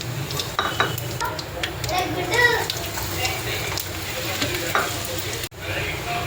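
Cumin and mustard seeds crackling in hot oil in a pan, a loud, close, continuous sizzle with small popping bursts and occasional utensil clinks before an abrupt cut.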